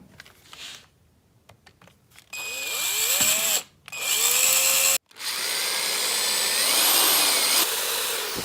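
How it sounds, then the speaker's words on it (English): A power drill whirs in several loud bursts drilling out pins on a Mercedes-Benz C300 electronic steering lock, revving up and down with brief pauses between runs, preceded by a few light clicks and handling knocks. "I drilled out those pins"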